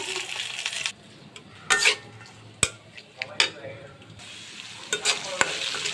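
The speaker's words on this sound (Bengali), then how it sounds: "আমি ওই কড়াইতে আরও কিছু সরষের তেল দিয়ে দিব দিয়ে দেবো কিছু পেঁয়াজ কুচা" Chopped onions sizzle steadily in hot mustard oil in a kadai while a spoon stirs and scrapes the pan in occasional sharp clinks.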